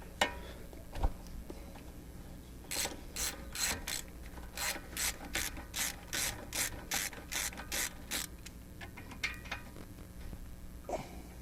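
A ratchet wrench clicks in a quick, regular series of strokes removing 11/16-inch brake caliper bolts on a Ford Mustang, close and crisp, preceded and followed by a few metallic knocks.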